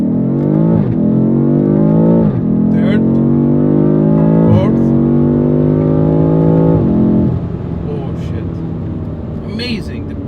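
A BMW F90 M5 under way, its engine and exhaust droning loudly and steadily, rising in pitch through each gear and dropping sharply at several quick upshifts, then easing off toward the end.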